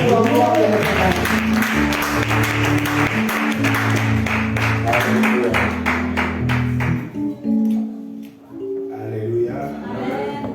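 A church congregation applauds to welcome the pastor, rhythmic clapping joined by music and sustained keyboard tones, fading out near the end as a voice speaks.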